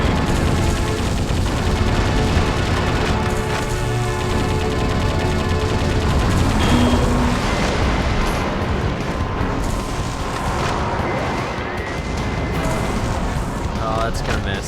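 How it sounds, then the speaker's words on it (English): Explosive rocket fire and blasts from an attacking helicopter in the Metal Wolf Chaos video game, a dense, continuous barrage of booms and gunfire with music underneath, loud throughout. "there's a helicopter shooting rockets at me"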